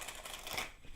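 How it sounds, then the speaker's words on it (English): Tarot cards shuffled by hand, a brief close riffle of rapid papery flicks and slaps lasting about a second. "let's take a look at what the tarot cards say if I can shuffle them"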